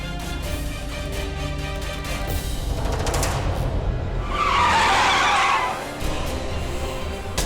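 A car skids on a rough, potholed road as its brakes fail, with a continuous engine and tire roar that swells into a loud, harsh screech partway through before easing back.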